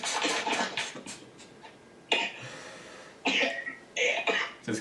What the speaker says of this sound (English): Just coughing up a lung over there.